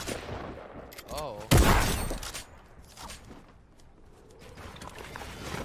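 Shotgun blasts in a fast-paced video game, one sharp loud shot standing out among scattered clicks and smaller impacts, with movement noise and brief game sounds around it.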